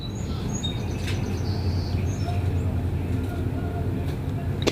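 Small birds chirp in short, scattered tweets over a steady low background rumble, with a few brief higher calls standing out across the stretch.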